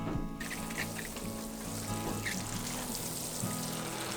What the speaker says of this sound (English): We are going to water everything.